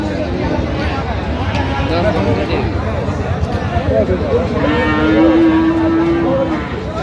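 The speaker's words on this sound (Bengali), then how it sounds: "খামার উপযোগী ষাঁড় গরুগুলো বেচা কিনা হচ্ছে" At a Dinajpur cattle market where Sahiwal bulls are traded, a long low moo rises near the end amid busy crowd chatter and nearby voices talking.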